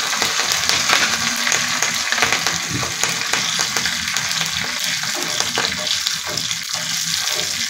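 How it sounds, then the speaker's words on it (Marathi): Cumin seeds, curry leaves and two dried red chilies crackle and sizzle in hot oil for a tadka for Hyderabadi mixed dal, a steady dense spitting with occasional stirring scrapes throughout. "अर्धा चमचा जिरं घालायचं, कढीपत्ता घालायचा आहे आणि 2 सुक्या मिरच्या घालायच्या आहेत।"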